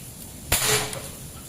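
An air rifle shot from a 30 cm mini bullpup at 3500 psi hitting a brick target, a single sharp broadband crack followed by a brief shattering decay, with the shot sounding moderately close.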